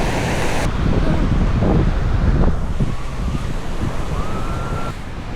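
Rough sea waves crash and wash onto a sandy swimming beach at Yeongdeok, a continuous loud rushing roar mixed with wind buffeting the microphone.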